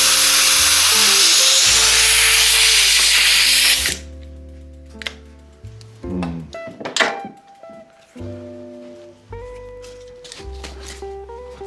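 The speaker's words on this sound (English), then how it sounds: "This is the Finish Line speed degreaser. Basically brake clean." An aerosol can of Finish Line speed degreaser, a brake-clean style solvent, sprays in one loud, continuous hissing burst for about four seconds while cleaning a Giant Talon 3 mountain bike, followed by clanks and thunks of handling with no talk.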